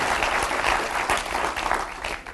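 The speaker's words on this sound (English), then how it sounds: "You can applaud." Audience applause at a speaking event welcoming Martin Sorrell and Dave Brailsford: steady, close, full-room clapping holding for the whole stretch with no talk over it.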